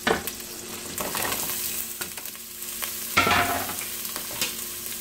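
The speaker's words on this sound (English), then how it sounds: "I'm going to go ahead and add a little olive oil and butter. I'm also going to add my onions." Onions sauté in olive oil and butter in a hot pot, making a continuous crackling sizzle punctuated by stirring clatters and a louder burst of spatter partway through.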